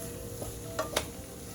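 Burrito filling with cheese is mixed in a hot pan, a low steady sizzle broken by two or three brief spatula scrapes, close and fairly quiet, no voices.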